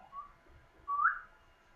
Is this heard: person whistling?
yes